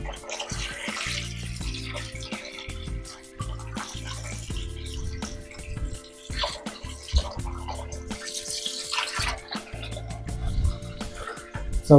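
Water pours and splashes over frozen fish to thaw it, a close, uneven running and sloshing in bursts with brief pauses, with some low background voice.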